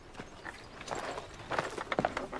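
Horses' hooves clip-clop at a moderate distance, a faint, uneven scatter of hoof strikes that grows a little denser and louder toward the end.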